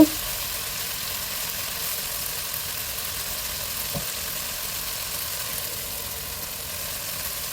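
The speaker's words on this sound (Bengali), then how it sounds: "জিরার গুঁড়ো দিয়ে দিলাম দিয়ে এখন মশলাটাকে আবারও একটু কষিয়ে নেব" Spice paste with garam masala and cumin powder frying in a pan while being cooked down for thin khichuri, a steady soft sizzle running throughout with one brief clink near the middle.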